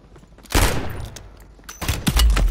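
Gunfire from Call of Duty Modern Warfare III in Resurgence mode: a heavy burst of shots erupts midway, fades, then a second loud volley of rapid fire follows near the end, with no talk over it.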